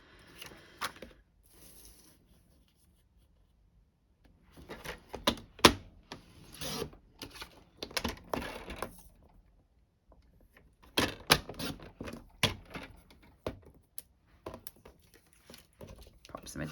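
Designer series paper cut down to a small square with a paper trimmer or scissors, giving several short crisp bursts of slicing and rustling close by, separated by brief quiet gaps.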